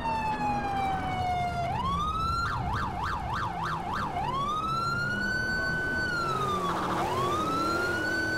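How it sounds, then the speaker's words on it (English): A police siren from the GTA IV LCPDFR game wails and sweeps up and down, switching into a rapid yelp pattern midway before returning to a long wail, loud and continuous over faint engine rumble. "Probably can hear my siren."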